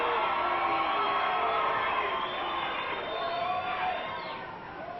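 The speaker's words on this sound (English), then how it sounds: "Crowd having mixed emotions here" Wrestling crowd at a TV match cheering and whooping as a 270-pound Alabama wrestler, Carl Styles, is introduced; a dense, steady roar of mixed shouts fills the arena without letup.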